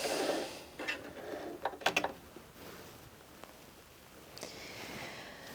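Bernette B35 sewing machine mechanism raising the needle, heard as a few soft close mechanical clicks and whirs followed by quiet.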